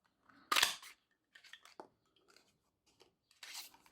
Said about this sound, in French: Je vais couper mes petites feuilles dans le papier bleuet des bois.